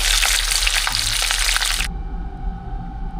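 Tilapia fries in hot oil with a loud, steady broadband sizzle for almost two seconds. The sizzle then cuts off sharply, leaving a quieter low hum and faint crackle.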